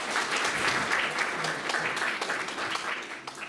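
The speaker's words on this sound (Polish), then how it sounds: "Duże brawa," Warm applause from the audience at a children's song festival greets a young girl singer, a continuous, moderately distant patter of many hands that tapers slightly toward the end.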